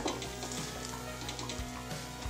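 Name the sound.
Spanish omelette sizzling in a pan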